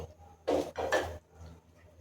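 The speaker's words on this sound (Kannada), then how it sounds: "ಮುಚ್ಚಳ ಮುಚ್ಚೋಣ" A lid is closed onto a pot of mushroom methi pulav, giving two quick clattering knocks of lid against pot close up in an otherwise quiet kitchen.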